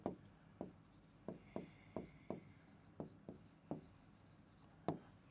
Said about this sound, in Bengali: একটু লিখে দিই।